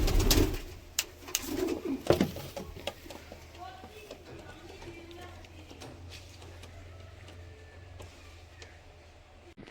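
Pigeons at a sale coop give low cooing under someone speaking, with sharp knocks and clatter early on before the birds carry on softly alone.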